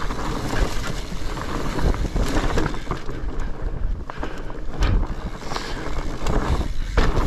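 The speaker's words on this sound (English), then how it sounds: "Let's go on down. On the fat bike." A fat bike rolls down a camp trail. Loud, steady wind rush buffets the microphone, and rumbling tire noise with occasional bumps and rattles runs beneath it throughout, with no voices.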